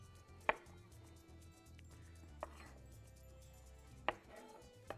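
Cucumber being cut on a board with a knife, three sharp chops spaced apart against quiet background, no talking.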